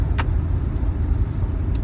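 A 1989 Nissan 180SX RS13 cruising at night gives a steady, loud low engine and road rumble from inside the cabin, with no talk.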